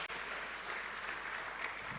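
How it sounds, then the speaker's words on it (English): A live audience at a church brand-growth talk applauds in a steady, dense wash of clapping that holds for about two seconds, at a moderate distance, with no one speaking over it. "round of applause for that one"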